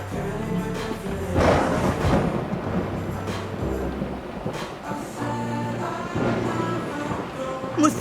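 Low, rolling thunder from an approaching storm rumbles steadily for several seconds with swelling bursts, moderately loud and spread out, with no voices over it.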